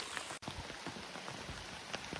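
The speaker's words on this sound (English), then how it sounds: "It's been raining pretty hard, thunder and lightning earlier." Rain falling during a hike on a trail, a steady soft hiss of drops with a few faint patters, quiet and even throughout.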